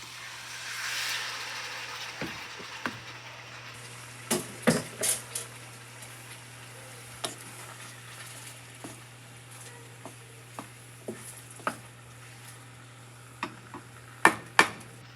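Peaches cooking in a stick of melted butter in a pan, a faint soft sizzle with scattered spoon scrapes and taps against the pan.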